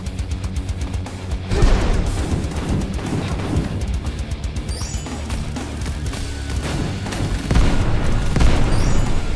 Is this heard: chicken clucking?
no